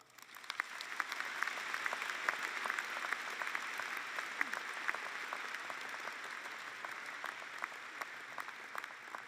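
A commencement audience applauds to welcome the speaker, a crowd's steady dense clapping that swells quickly and holds at a full, even level throughout.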